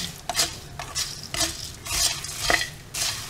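Dry puffed rice scraped and tossed around a pan with a wooden spoon while roasting, in a few bursts of rustling, crackling stirring.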